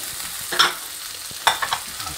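Curry leaves hit hot oil in a pan of salted dosa masala and fry with a steady sizzle, a few sharp crackles and scraping stirs rising above the constant hiss, close by.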